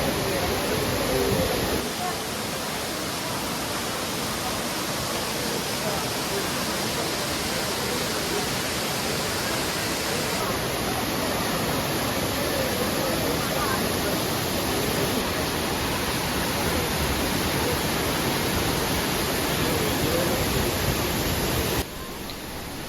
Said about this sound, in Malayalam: നമ്മൾ ഈ കാണുന്ന ഒരു ഹ്യൂജ് വെള്ളച്ചാട്ടത്തിൻ്റെ ഏരിയയാണ്